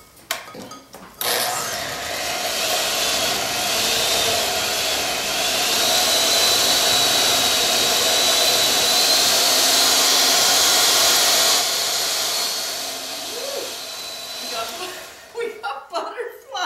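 An electric hand mixer whirs steadily while beating butter and sugar into cookie dough, a loud continuous motor drone that runs for most of the stretch before cutting off, with brief talk and laughter around it.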